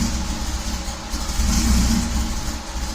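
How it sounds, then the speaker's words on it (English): A Datsun 280ZX S130 engine runs steadily at a fairly even idle, a continuous low mechanical hum with a slight swell in level partway through, heard close and alone. "the engine runs amazing."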